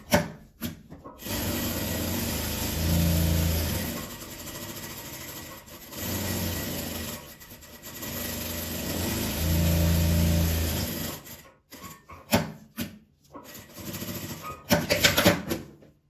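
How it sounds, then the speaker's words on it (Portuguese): A sewing machine with a presser foot stitches a fabric pad pouch with velcro, running in long steady buzzing bursts that stop and restart, ending in a few uneven rubbing and handling noises. "Aqui eu já costuro com um pezinho de máquina à distância."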